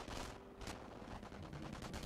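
Gunfire in the World War II strategy game Company of Heroes, Normandy campaign at Montebourg: a quiet, distant-sounding spread of rifle and machine-gun bursts crackling steadily with no talk over it.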